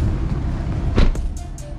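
A BMW M240i with a B58 engine, a new turbo and a catless downpipe rumbles low and steady as it is driven out, with a few light clicks and taps near the end.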